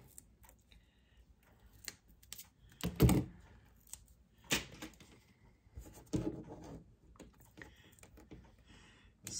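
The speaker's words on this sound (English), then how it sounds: "I will just cut one of these in half" A foam piece is cut in half with a series of close, dry snips and scratchy crunches, irregular and fairly quiet, with small handling clicks between cuts and no talk.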